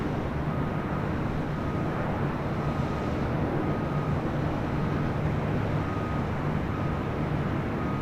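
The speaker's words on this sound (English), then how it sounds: "1697 in the Disney World Mickey Mouse livery heading back to Vancouver in the 737-800." WestJet Boeing 737-800 jet airliner in a special Disney World Mickey Mouse livery at LAX, departing for Vancouver: a steady, broad jet rumble held at an even level throughout, with a faint whine on top and no talk.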